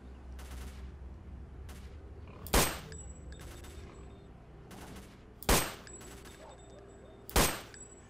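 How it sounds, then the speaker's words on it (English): Three sharp, loud gunshots spaced a few seconds apart in the S.T.A.L.K.E.R. Misery video game, standing out over a faint, steady ambient background with no speech. "how many shots is it going to take here? I'm hitting him in the head."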